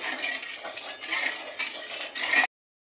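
A spoon stirs thin sugar syrup with small cardamom pods in a pan, giving continuous close scraping and soft clinking with a faint bubbling hiss, and the sound cuts off abruptly before the end.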